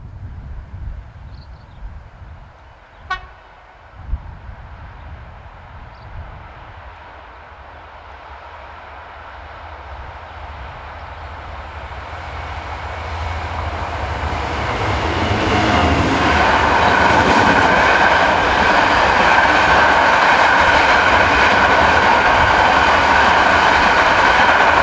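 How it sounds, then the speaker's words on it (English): An ECR Class 66 diesel locomotive hauls empty aggregate wagons. It starts faint and distant after a couple of sharp clicks, then swells into a loud, close, sustained rumble and roar of wheels and wagons passing. "Not far behind we see ECR Class 66 number 66226 on empty aggregate wagons."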